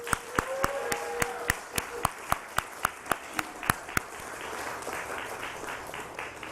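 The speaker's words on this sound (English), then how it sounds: "this is a team that I'd like to personally give a round of applause to" Applause from an audience at a Nasdaq closing bell ceremony, with loud, evenly spaced sharp claps near the microphone for about four seconds over softer clapping from the crowd, which carries on alone.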